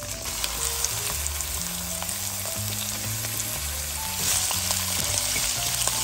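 A seafood mix sizzles in a hot pan while pancit canton is cooked, giving a loud, continuous frying hiss with occasional stirring and clatter against the pan.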